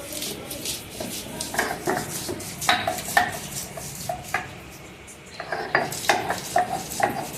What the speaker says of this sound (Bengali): রসুনটাকে বাটবো।